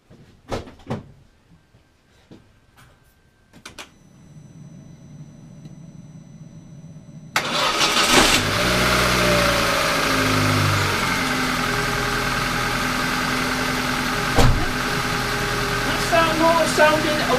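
A 2004 Vauxhall Corsa C with a repaired starter motor is preceded by a few clicks and knocks, then cranks and catches into a steady, close engine idle that carries on evenly to the end.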